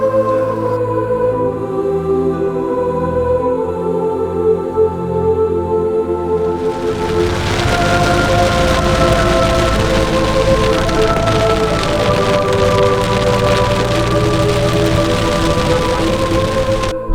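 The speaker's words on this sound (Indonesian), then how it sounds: "Gerimis hujan." Light drizzling rain falls in the Bukit Barisan mountains, a soft, even hiss that thickens partway through and continues steadily to the end over faint background tones.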